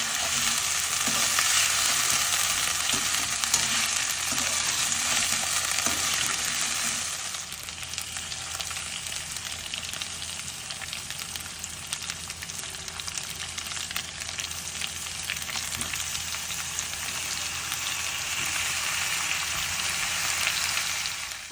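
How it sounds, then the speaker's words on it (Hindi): Mutton fries with ginger garlic paste in a karahi, giving a loud, continuous close-up sizzle with a rough, spattering texture that eases slightly partway through. No voices. "उसके अंदर सारा मटन डाला और फिर डालेंगे 2 टेबलस्पून अदरक लहसुन का पेस्ट और फिर उसे करना बहुत अच्छे तरीके से फ्राई"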